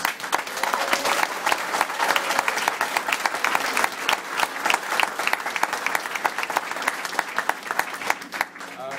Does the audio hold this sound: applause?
yes